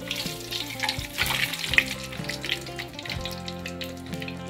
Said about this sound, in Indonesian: sekarang kita goreng telur rebusnya